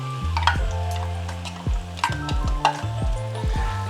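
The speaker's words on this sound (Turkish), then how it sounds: "Her şeyi iyice karıştırıyorum." Grated tomato sauce and hot chili peppers stirred in a frying pan, with steady loud sizzling and repeated scraping strokes of the spoon against the pan, close up and with no talking.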